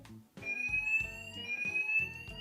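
A fire detector alarm sounds during a combined heat and smoke test with a ceiling tester: a loud electronic tone pulses in quick repeated beeps with a sustained high whistle, close by and with no talking.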